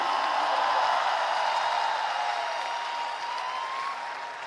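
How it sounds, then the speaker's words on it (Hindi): Applause from a vast crowd at a 2017 student interaction event in Kota, a steady dense wash of clapping that holds evenly throughout and fades slightly toward the end. "मैं चाहूंगी आपकी तालियों के पुष्प भी इससे जुड़ें।"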